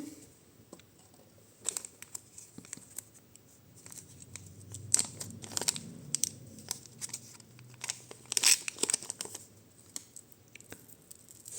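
Quiet, sporadic crinkling and rustling of thin plastic packaging close by, with light taps and handling noises in between.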